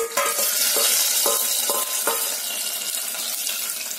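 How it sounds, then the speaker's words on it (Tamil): A sizzling tempering of curry leaves poured into mashed lentil dal for sambar, then stirred in: a close, bright hiss with a few soft scraping strokes, gradually settling. "ஸ்டவ் ஆஃப் பண்ணிட்டு இந்த பருப்போட சேர்த்திடலாம்."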